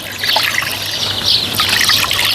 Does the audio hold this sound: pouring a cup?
yes